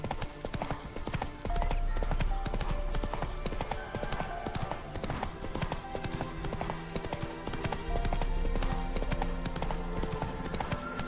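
Roach, the horse in the video game The Witcher 3, gallops with steady rapid hoofbeats heard over a continuous layer of game music and ambience, loud and close throughout.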